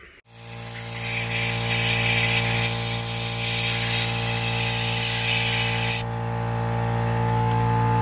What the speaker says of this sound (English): probably gotta get the compressor and blow it out a little bit